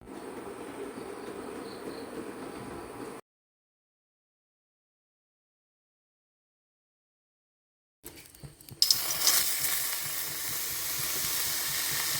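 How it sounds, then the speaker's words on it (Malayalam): Moong dal roasting in a pan for parippu payasam, a soft crackling sizzle that cuts to silence for several seconds, then returns louder and brighter with a few sharp pops. "ചെറുപരിപ്പ് നമുക്കൊന്ന് വറുത്തിട്ടെടുക്കാം"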